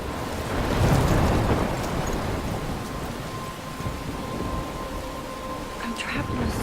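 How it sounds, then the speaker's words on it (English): Rain pours steadily with rolling thunder in a stormy scene from the Life Is Strange video game, a continuous loud wash with low rumbles and a faint steady tone beneath. "I'm trapped in a storm?"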